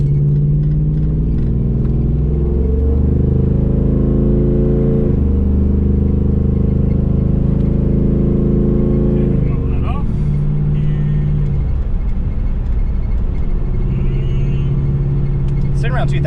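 A Pontiac Trans Am with a transmission fault that will not shift into overdrive cruises on a long, flat highway, its engine droning loud and steady from inside the cabin, the pitch stepping up and down as it tries to shift.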